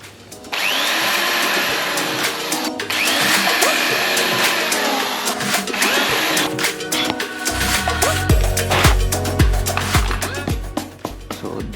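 A power drill bores a hole in the original front mudguard of an Aprilia RS 457 motorcycle, whining in bursts with rattling and clicks, and a lower grinding tone joins near the end.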